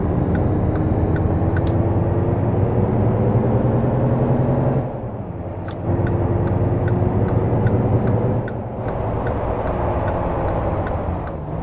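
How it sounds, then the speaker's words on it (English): A Mack truck drives past in American Truck Simulator, its loud steady diesel drone with gear-shift dips, heard from inside a moving truck cab. "There's another Mack truck going by."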